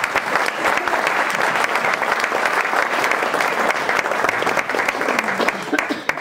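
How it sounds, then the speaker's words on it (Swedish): Loud, dense applause from an audience at an association gala in Borås, continuous clapping filling the room for several seconds with crowd murmur mixed in. "Ett stort grattis och en stor applåd."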